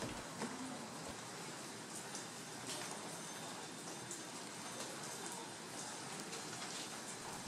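Soft, steady hiss of rain falling on a street in Japan, faint and continuous, with occasional small clicks and a distant low rumble beneath.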